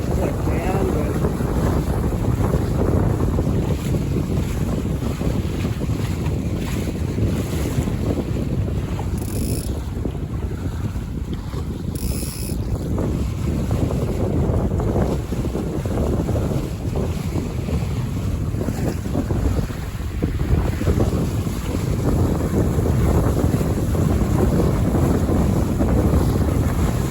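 A Buccaneer 18 sailboat, sailed solo in moderate gusty wind, with continuous wind buffeting the microphone over the rush and slap of water along the hull, loud and unbroken throughout.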